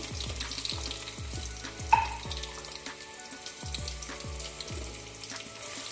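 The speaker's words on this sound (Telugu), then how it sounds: "ఇది కొంచెం బ్రౌన్ అయ్యేంత వరకు వేయించాలండి." Two small chopped onions frying in a pan for palak mushroom curry, a continuous close sizzle with a brief clink near the start and faint background ringing, no voices.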